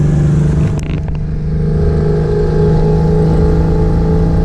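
A Ford Falcon on hydraulic suspension runs at full throttle from inside the cabin, a loud steady engine drone with strong low harmonics and a brief clatter near the start, sustained and close.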